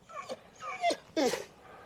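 A dog gives three short whiny yips and whimpers in quick succession, close by, followed by quiet.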